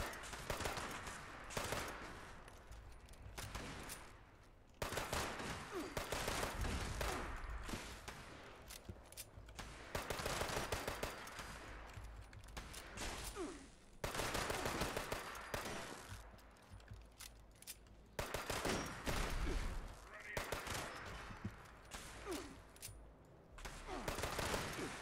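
Rapid gunfire from Fallout 76 combat, loud automatic bursts and shots repeating in dense volleys across the whole stretch, with brief lulls between bursts and no talking.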